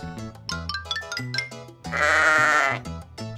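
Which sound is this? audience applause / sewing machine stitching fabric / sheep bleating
sheep bleating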